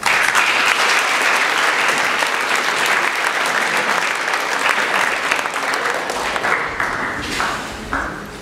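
Audience at a school evening event applauding to welcome a band, dense sustained clapping from a full room that holds steady and then thins out near the end.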